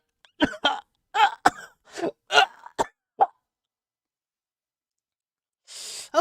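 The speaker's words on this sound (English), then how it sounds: "I'm getting a little too good at fake coughing deaths" A person fake-coughs as a dying character in a run of about eight sharp, close coughs over three seconds, then goes quiet before a breathy exhale.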